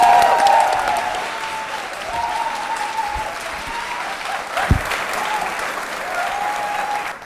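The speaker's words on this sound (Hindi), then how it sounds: "जोरदार तालियां बजाइए जोरवाल साहब के लिए, जोरदार तालियां बजाइए" A college quiz show audience gives a contestant a full round of clapping, loud at first, then settling into steady, continuous applause.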